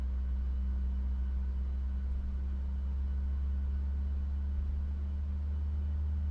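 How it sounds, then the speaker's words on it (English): Boeing 737-8 MAX jet engines in Microsoft Flight Simulator 2020 produce a steady low drone with a constant hum, heard from inside the cabin without any change in pitch. "So let's turn the music down and we're going to listen to these engines."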